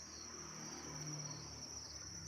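Crickets trill at a cricket farm, a dense, steady high-pitched chorus running continuously without pause, with a faint low rumble beneath.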